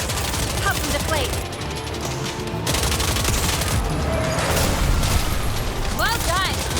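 Rapid gunfire in the video game Ananta is aimed at car tires, with bursts of shots, thuds and clatter over game music, while voices talk throughout.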